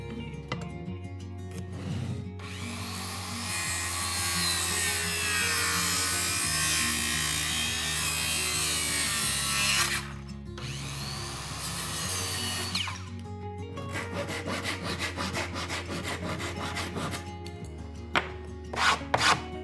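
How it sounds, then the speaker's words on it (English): Ash hardwood wedges for a handmade woodshed being chamfered by hand, heard as long, loud rasping strokes broken by short pauses, set over a steady low drone, with no voices. "so I chamfer them firmly"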